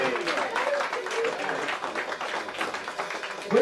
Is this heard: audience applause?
yes